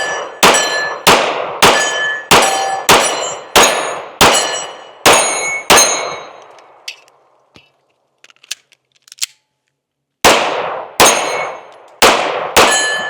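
Pistol rounds from a Springfield Armory Echelon 4.0C ring off steel targets at an outdoor range. Loud metallic clangs come in quick, even strings, a long quiet gap separates them, and a few more hits follow.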